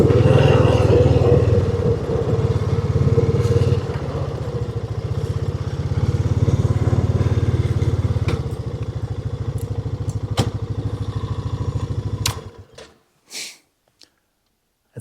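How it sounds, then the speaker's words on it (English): A motorcycle ridden along, its engine a steady low rumble with loud wind buffeting that rises and falls, before the sound cuts off abruptly into near silence with a few faint knocks. "So let's get on the bike and go down and have a look."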